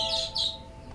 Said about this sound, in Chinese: 小鸟，终于把你们盼来了